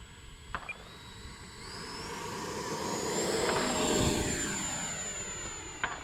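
An E-flite Viper RC jet makes a slow pass with its landing gear down, its whine swelling steadily as it nears and then easing as it passes, with a few sharp clicks at the start and end.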